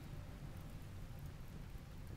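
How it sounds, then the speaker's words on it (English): Steady rain falls in the video game RimWorld, a continuous even hiss heard alone at low volume with no breaks for the whole stretch. "There comes the damn rain again."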